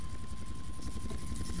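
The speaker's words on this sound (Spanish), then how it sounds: "es un helicóptero de guerra" A military helicopter's rotor in GTA Vice City thumps in a steady, rapid beat, loud and close, with a constant high whine over it.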